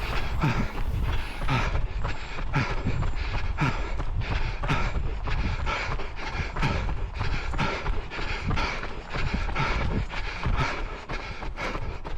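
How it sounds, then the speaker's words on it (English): A train rolls past nearby with continuous rhythmic clicking and clatter of wheels on rails, loud and steady throughout. "Just something to take my mind off running with the train going past."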